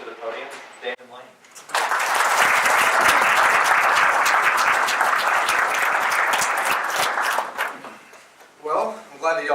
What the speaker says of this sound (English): I'm glad that y'all gave me an applause